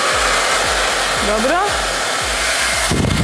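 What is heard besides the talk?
hair dryer blowing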